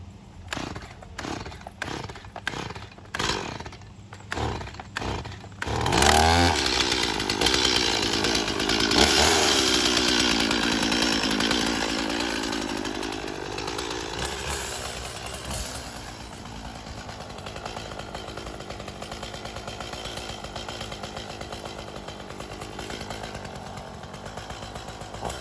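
A small Stihl MS-180 chainsaw cuts a tree: a series of sharp pull-start rasps, then the engine roars up and runs loud and steady through a long cut, the pitch sagging under load and then settling.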